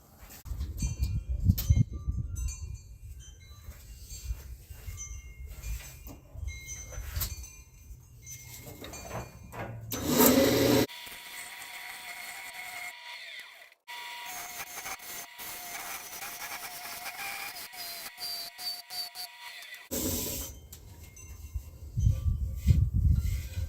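Cherry and walnut vase on a wood lathe as the inside is hollowed, a steady scraping, rubbing cut with brief louder bursts and pauses between passes, close and fairly loud.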